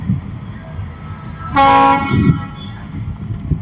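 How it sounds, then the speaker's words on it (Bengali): A train engine running around to couple at the opposite end of its train, a loud blast of its horn over rumbling rail noise, with faint voices in the background. "এই যে ট্রেনের ইঞ্জিন কিভাবে যায় এক মাথা আরেক মাথা গিয়া"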